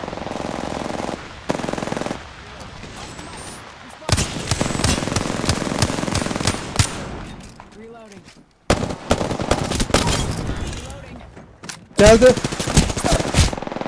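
Gunfire in the battle royale game Apex Legends: rapid automatic bursts and single shots come in loud clusters separated by short lulls, with players talking over the action.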